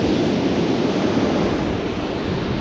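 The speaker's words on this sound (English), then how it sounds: "This wind is ripping through here." Strong wind blowing hard on a beach while surf fishing, a loud, continuous roaring rush buffeting the microphone with the wash of surf mixed in.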